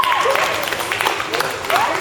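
Audience applause at a Pink Shirt Day school event at South Olive Elementary, a steady clapping crowd with voices talking and calling over it.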